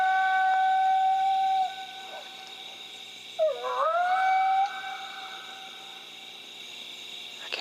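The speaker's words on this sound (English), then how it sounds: "I got the Fox Pro right there. Start out with some howls" A FoxPro electronic game caller plays coyote howls in an open field at night: long, wavering tonal howls with a rising, yipping break partway through, loud and clear over a faint insect hum, with no talking.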